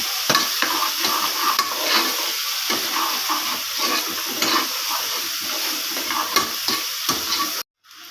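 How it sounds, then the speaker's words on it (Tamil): Onions with ginger garlic paste sauté in hot oil for vegetable biryani, giving a steady close sizzle with stirring scrapes throughout, cutting off abruptly near the end. "இஞ்சி பூண்டு பேஸ்ட்டு வெங்காயம்லாம் வதங்கிடுச்சு"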